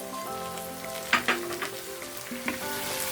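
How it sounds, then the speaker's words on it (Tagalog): Chopped tomatoes sizzle and fry in a pan for Thai egg curry, a steady close crackle broken by a few sharp spatters and light stirring knocks, with no talking. "Lulutuin lang natin yung ating kamatis ng mga 2 minuto"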